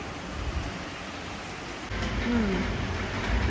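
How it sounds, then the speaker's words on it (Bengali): Heavy rain seen from a kitchen window makes a dense, steady hiss that swells louder partway through, with a faint bird call in the background. "একটু দেখিয়ে দিই বৃষ্টিটা কীরকম হচ্ছে"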